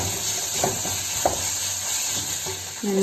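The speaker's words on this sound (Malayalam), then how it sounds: "സവോള വഴറ്റിക്കൊണ്ടിരിക്കുന്നു കേട്ടോ" Onions sautéing in a pan on a home stove give a steady, close sizzle with a few soft scrapes of stirring, alone without talk.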